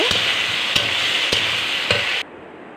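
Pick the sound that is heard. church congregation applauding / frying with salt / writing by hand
frying with salt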